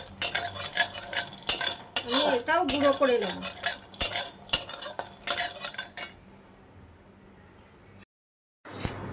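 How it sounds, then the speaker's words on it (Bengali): A utensil scrapes and rattles peanuts around a dry wok with no oil, in quick uneven strokes and clinks, then the stirring stops. Someone speaks briefly between the strokes. "চিনি বাদামগুলো আমি একটু শুকনো কড়াইতে নাড়িয়ে"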